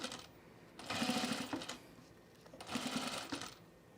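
Serger overlock sewing machine stitching a hoodie, running in two bursts of fast mechanical whirring with a brief pause between them.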